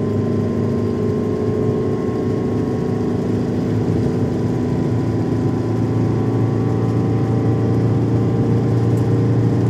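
A car engine pulls steadily in fourth gear from about 80 km/h on a gentle incline, a continuous loud drone with a constant tonal hum that holds evenly throughout, no voices over it.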